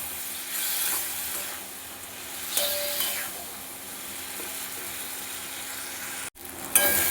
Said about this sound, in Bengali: দিয়ে মশলাটা খুব ভালোভাবে কষিয়ে নেব।